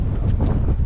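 Strong wind buffets outdoors in an Irish village, a loud, rumbling gust that roars across the microphone in one brief burst.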